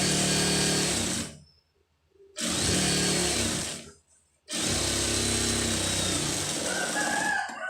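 A sewing machine stitches lined blouse fabric in three loud bursts of fast, buzzing whirring, with short silent pauses between runs. No one talks.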